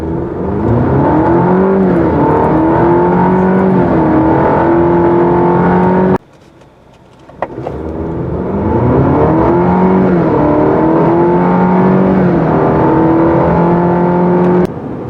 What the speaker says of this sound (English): Let's do another 0 to 60 run and see if we get a better time.